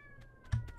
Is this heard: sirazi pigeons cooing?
no